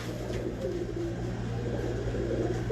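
Pigeons coo softly and continuously over a low steady hum, the murmuring calls rising and falling without a clear break.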